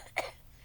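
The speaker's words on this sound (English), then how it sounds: "I was literally coughing like that." A person gives one brief, fairly faint cough, a single short burst that demonstrates a lingering cough from a throat illness.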